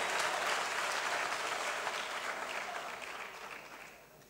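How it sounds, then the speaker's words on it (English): Gathering applauding a team member on a project, a wash of clapping that starts full and gradually fades toward the end, distant and soft. "Please clap for him again."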